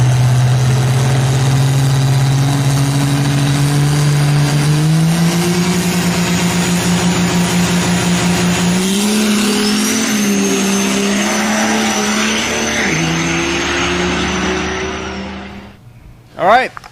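A diesel truck races on a racetrack, its engine roaring loud and close with a steady drone that climbs in pitch through several shifts before cutting off near the end.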